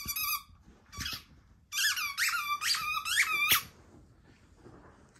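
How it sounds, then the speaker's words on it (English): A dog squeezes a squeaky toy ball, producing one high squeak, a short second squeak, then a run of about five quick, loud, rubbery squeaks close by before it falls quiet. "the dog is squeaking the ball, Mario"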